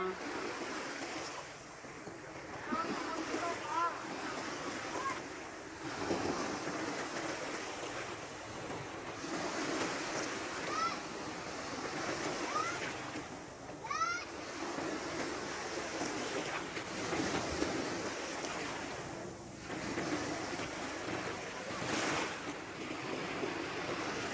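Sea waves wash onto the shore in a steady, continuous surge with wind noise across the microphone, a few faint bird chirps and brief distant voices scattered over the roar.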